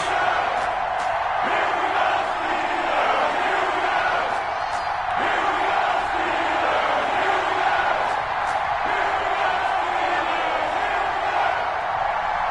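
Crowd roar in a Madden 21 video game before a Miami Dolphins versus Pittsburgh Steelers matchup, a dense, continuous stadium cheer with whoops rising and falling throughout.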